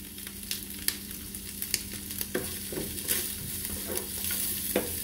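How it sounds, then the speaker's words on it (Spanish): Onion and green chile fry in a pan for a breakfast of eggs with ham, giving a continuous sizzle broken by repeated sharp scrapes and taps of a utensil stirring close up, with no talking. "Y así lo voy a dejar aquí, es que se vaya friendo un poco."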